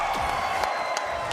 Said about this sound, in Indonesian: Wow, EPL Arena, mana tepuk tangannya?